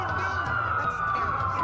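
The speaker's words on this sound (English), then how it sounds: "That's a lot of sirens for a blackout." Police sirens wail continuously in the Watch Dogs video game, a steady rising-and-falling tone filling the scene at constant loudness, with low rumbling game ambience underneath.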